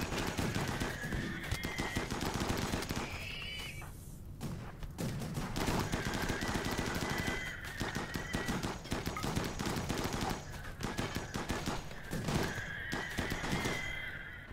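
Mini turrets fire in RimWorld, a rapid, crackling gunfire that runs almost without pause for the whole stretch, with dense bursts and brief lulls under a steady battle din.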